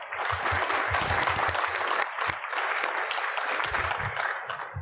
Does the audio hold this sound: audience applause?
yes